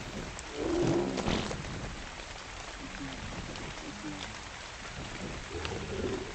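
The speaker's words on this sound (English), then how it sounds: "now we're back to rain" Rain falls steadily in the survival video game Ark, a soft continuous hiss with a few brief bird-like calls over it.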